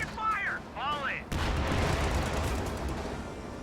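Gunfire and artillery rumble in a real-time strategy battle, a sudden loud wash of crackling shots and booms that continues steadily after a short voice is heard at the start.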